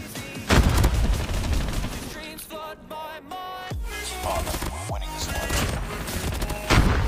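Rapid burst gunfire from the Pharo weapon in Call of Duty Mobile, loud, close bursts of several shots each, repeated through the clip over game music and effects.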